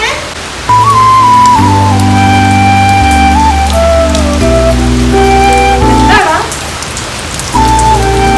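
Rain falls steadily and loudly under sustained musical tones, with no one speaking.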